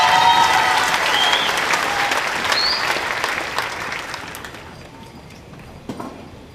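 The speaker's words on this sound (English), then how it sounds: "One more round of applause, please." A round of applause from the crowd at a high school graduation ceremony, loud at first and then gradually fading out to near quiet, with a few last claps near the end.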